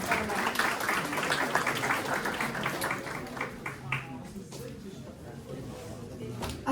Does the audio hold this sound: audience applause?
yes